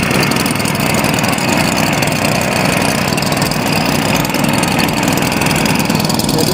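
A tuned engine runs steadily nearby, giving a loud, continuous droning hum with a rough, buzzy texture and no pauses.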